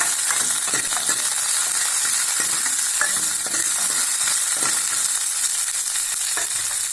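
Cashew nuts frying in a pan for sweet potato and poha payasam, a steady loud sizzle with scattered scraping and clicking of a stirring spoon, close up, no voices.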